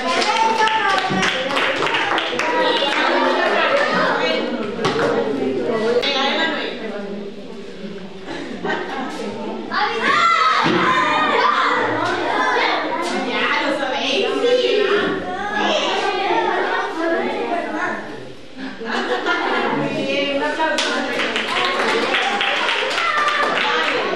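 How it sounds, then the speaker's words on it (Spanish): Children in a school co-education workshop clap in applause, a dense, continuous patter of many small hands mixed with chatter and voices throughout. "Un aplauso."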